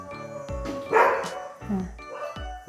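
Several dogs bark in short repeated bursts at night during a power outage, fairly close, with someone talking over and between the barks.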